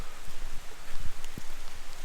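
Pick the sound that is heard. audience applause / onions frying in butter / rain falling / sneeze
rain falling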